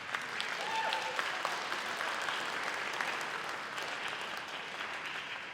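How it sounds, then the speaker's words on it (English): Audience applause at the kickoff meeting for a 2024 marching band season, a steady wash of clapping from many hands held at an even level for the whole stretch, with faint voices mixed in underneath. "go ahead, applause."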